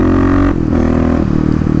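Kawasaki KLX351 motorcycle engine with a lidless airbox revving loudly up close, a strong steady drone that dips briefly and then holds at a slightly lower pitch, with induction roar throughout.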